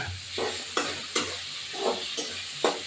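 Crushed garlic and chili frying in mustard oil in a pan, a soft steady sizzle punctuated by several sharp stirring scrapes at irregular intervals.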